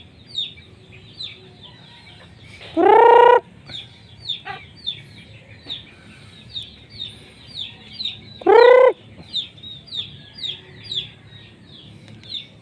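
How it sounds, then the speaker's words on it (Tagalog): Hens and chicks cluck softly in a scattered, continuous chatter outdoors, with high chick peeping throughout and two louder drawn-out squawks standing out nearby. "Yung inahin, iniwanan na yung mga sisiw niya dahil sa pagkain."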